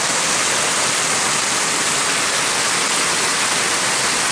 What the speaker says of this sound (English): Yeah, now it's laying down some rain.